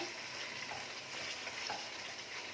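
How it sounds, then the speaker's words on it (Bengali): Chicken with curry leaves sizzles steadily in a pan over a medium flame for a coconut chicken curry, a close, even frying hiss with no voices. "এটাকে মিডিয়াম ফ্লেমে কিছুক্ষণ 5 মিনিট মতো একটু কষে নেব"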